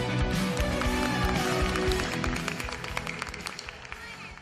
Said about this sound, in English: Clap for their parents!